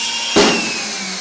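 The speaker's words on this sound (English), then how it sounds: "Now when I pull this trigger, it completes the circuit in the drill." An electric drill, handled during a power-line safety demonstration, whirs briefly when its trigger is pulled, a short loud burst that quickly fades into a low steady hum as a ground fault circuit interrupter trips.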